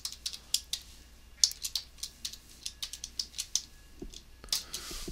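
Typing a MATLAB command on a computer keyboard: a steady run of sharp, close key clicks with an irregular rhythm, heard alone in a quiet room.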